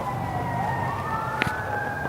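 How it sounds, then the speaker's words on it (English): Fire engine sirens wail steadily in the distance with a rising and falling tone, heard outdoors near a horse-riding area, with a brief sharp knock partway through. "we've got fire engines going, whatever's going on"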